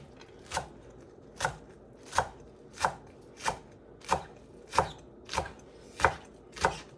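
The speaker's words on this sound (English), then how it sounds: "I'm gonna cut up some green onion too." A knife chopping green onion on a cutting board, ten evenly spaced sharp chops at a slow steady rhythm. The chops are close and clear over quiet background, with no talking.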